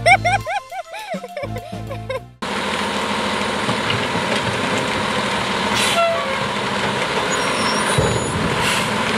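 A Thomas toy train plays a short whistle-like tune, then switches to a steady, loud rattling rumble as it runs along.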